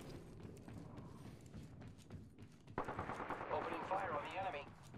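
Video game gunfire in Apex Legends: quiet scattered shots at first, then a sudden burst of rapid automatic fire with sharp cracks from about midway, dense and louder to the end.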